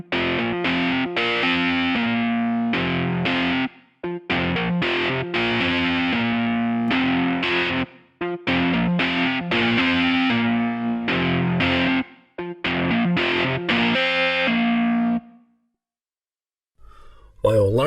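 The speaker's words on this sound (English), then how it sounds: "The flanger mixes the input signal with another copy that is delayed by a small and gradually changing amount." Flanger audio effect applied to a distorted, dense musical passage, played loud in repeated phrases separated by short gaps, with a sweeping, wandering comb-like coloration over the sustained tones.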